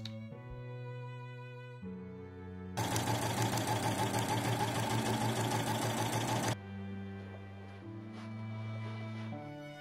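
A sewing machine runs a straight stitch through pieces of a Regency spencer, a loud steady mechanical whir of rapid repeating stitches lasting a few seconds, with quieter hum before and after.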